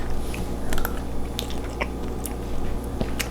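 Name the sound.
eating pumpkin ice cream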